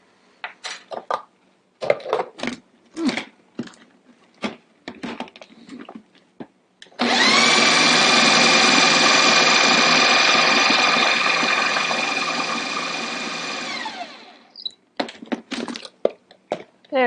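A food processor whirs steadily for about seven seconds as it blitzes cilantro pesto, with a strong even motor drone that winds down at the end. Knocks and spoon scrapes against the bowl come before and after it.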